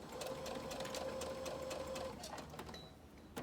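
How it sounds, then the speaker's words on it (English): A home sewing machine back stitching along a waistband runs in a steady, close mechanical whir and then slows to a stop near the end, with no talking. "and I'm going to back stitch."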